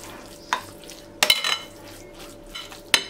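A spoon scrapes and clinks against a bowl while stirring a börek filling mixture with water, a few irregular strokes with quiet gaps between them, close and alone.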